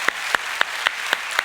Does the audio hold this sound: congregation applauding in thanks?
yes